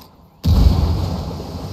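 A frag grenade goes off in the shooter video game Ghost Recon Wildlands: after a brief quiet moment, a single deep, heavy boom erupts and rolls on as a low rumble.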